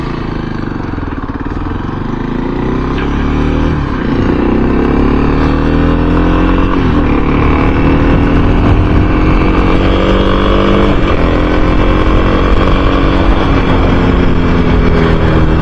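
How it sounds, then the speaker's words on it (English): A motorcycle runs at speed, its engine a loud close roar with rising and falling pitch through gear changes and wind rush, steady over fifteen seconds with no talk. "it's easy to speed on this bike"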